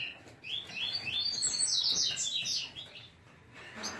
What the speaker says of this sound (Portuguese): Tô com um macho aqui, coleira. A fêmea tá ali, ó.